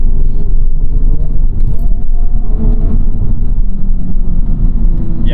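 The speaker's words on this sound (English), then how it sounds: "This is a pretty bumpy road, and even in comfort, this is getting kind of rough." A 2023 Honda Civic Type-R (FL5) rolling over a bumpy canyon road, with a loud, constant low rumble of road and tire noise and faint rattles filling the cabin throughout.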